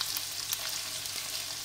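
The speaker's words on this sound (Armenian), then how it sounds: "ավելացնում ենք սոխը և մի փոքրիկ տապակում ենք" Onion frying in oil in a pan, a soft continuous sizzle with faint crackles, alone and fairly quiet.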